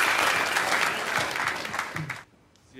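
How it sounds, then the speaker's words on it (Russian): Audience applause fills a press conference for a MAHATCH fight season, dense clapping close and loud for a couple of seconds before cutting off abruptly into near silence. "Давайте аплодисментами поддержим этих ребят."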